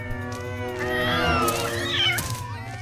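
Cartoon cats meow in a drawn-out, wavering chorus, loud and close, with overlapping whiny cries rising and falling for a few seconds.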